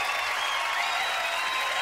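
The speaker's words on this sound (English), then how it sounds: "Crowd's going crazy for you" A crowd applauding and cheering at a podcast taping, a dense, steady wash of clapping that holds at full level throughout the brief moment.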